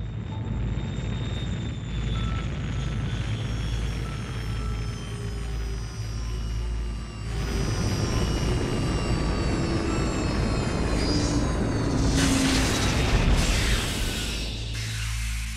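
Cartoon spaceship landing on a planet: a loud, continuous engine roar and whine with drifting tones, swelling and shifting toward the end as it sets down, with no talking.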